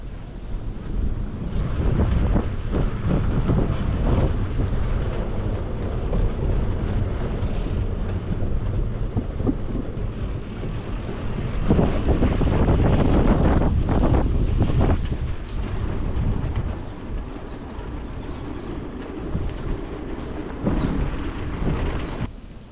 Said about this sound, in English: Awesome, this headwind. Headwind is just the best.